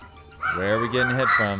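A rooster-crow alarm sounds loud and close, a drawn-out crowing call while someone speaks over it during a Fortnite game.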